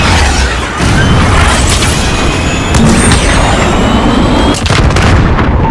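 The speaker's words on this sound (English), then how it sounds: "Cruise missile away." Cruise missile explosions in Call of Duty: Modern Warfare, a loud, continuous barrage of heavy booms and rumbling artillery-like blasts with sharp bursts layered throughout, dense and close with no letup.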